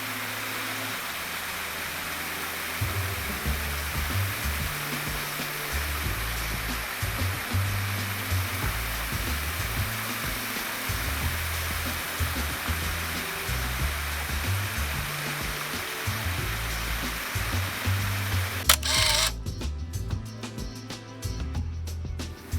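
Steady rushing roar of a partly iced waterfall on a winter hike, loud and continuous throughout, with a brief clatter of handling noise near the end and no talk.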